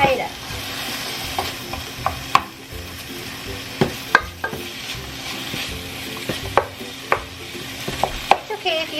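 Chunks of pork frying in a pan for a stew, a steady close sizzle broken by frequent sharp scrapes and clicks of a utensil stirring against the pan, no talk.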